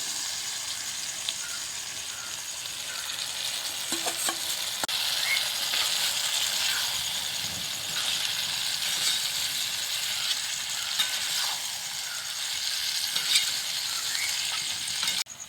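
Chicken pieces dropped into hot oil for a homestyle Kerala country chicken curry, giving a steady, fairly loud hiss and crackle of frying that runs the whole time with a few clinks.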